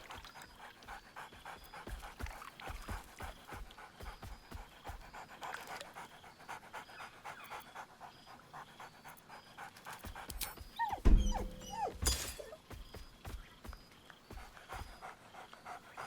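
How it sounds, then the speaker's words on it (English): Dog companion in Baldur's Gate 3 panting steadily and rhythmically for a long stretch, with a louder bark or yelp burst near the middle before the quiet panting resumes. "Scratch barks merrily in something like agreement."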